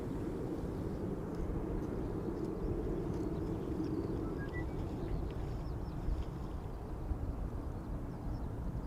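An Embraer 190 jet takes off at Schiphol Airport, a faint, distant engine rumble holding steady, with faint clicks and a few bird chirps in the background.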